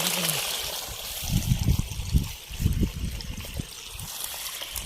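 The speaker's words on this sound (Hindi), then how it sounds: "यहाँ से निकल रहा है पानी" Water trickles out of an irrigation channel beside a maize field, a soft, uneven gurgle and splash, fairly close against a faint outdoor hiss.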